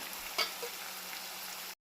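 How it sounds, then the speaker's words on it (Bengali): Onions and garlic paste fry in a pan, a soft, steady close sizzle with a brief stirring clink, ending abruptly after under two seconds. "মশলাটা দেখো ভাজা ভাজা হয়ে গেছে"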